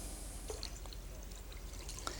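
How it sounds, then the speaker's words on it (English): Wine pours into the poaching liquid for pears in a steady, gentle trickle with faint splashes and drips, heard up close and without speech. "And add the wine."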